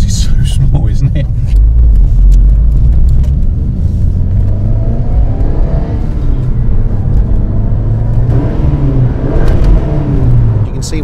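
A Lancia Delta Integrale Final Edition's turbo engine drones loudly from inside the cabin as the car drives, a constant low rumble with the boost swelling in, while people talk over it.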